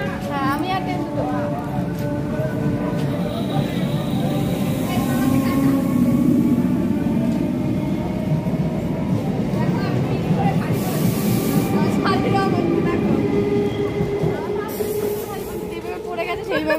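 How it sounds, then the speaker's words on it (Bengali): A train rumbles past close by on its rails with a steady roar, a hiss and clattering wagons throughout, while people talk over it. "ট্রেনটাও দেখা যাচ্ছে"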